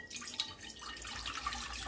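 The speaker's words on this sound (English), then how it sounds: "Now add 1 liter of water to your saucepan" Tap water runs steadily into a saucepan while Kenyan chai is being made, a continuous close splashing pour lasting about two seconds with no talk.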